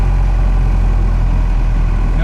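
A Cummins truck engine idles with no exhaust or muffler fitted, a loud, steady, low rumble close by that holds unbroken throughout.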